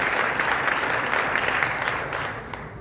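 Audience applause at a direct selling association press meet in West Bengal, a steady, dense clapping from a room full of people that holds for the whole stretch and tapers slightly at the end.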